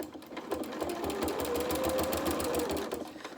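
A sewing machine runs steadily, stitching fabric for an advent calendar, a continuous close whir with a rapid needle rhythm throughout.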